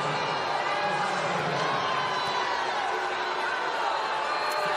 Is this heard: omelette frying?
no